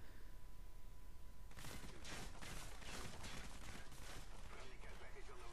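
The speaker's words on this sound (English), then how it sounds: "I'm trying to shoot through the wall but I can't." Rapid gunfire in a first-person shooter game, a burst of close, dense shots firing in quick succession for several seconds over a steady background hum, with a player talking.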